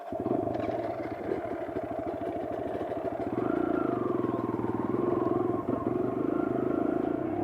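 Kawasaki KLX 140 dirt bike riding, its small single-cylinder engine droning steadily up close and rising in pitch midway as the throttle opens, with no talk.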